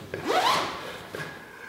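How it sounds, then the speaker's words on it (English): A tent zipper slicked with silicone grease is pulled in a quick rising zip, then a second softer, shorter pull follows a moment later, close up with no voices. "we're gonna use it to lubricate our zippers so that they never get stuck again."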